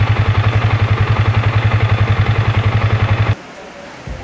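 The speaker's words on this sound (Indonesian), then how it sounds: "Ini bagian mesin Vixen di sebelah kiri itu bunyi klotok-klotok." A Yamaha Vixen motorcycle engine idling with a rapid, even ticking knock from a worn tensioner on the left side, loud and close for about three seconds before cutting off abruptly to quieter background noise.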